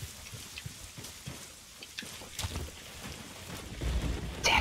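Steady rain in the Ghost Recon Wildlands video game, a soft continuous hiss of falling drops with some low rumbling, building slightly toward the end, with no talking.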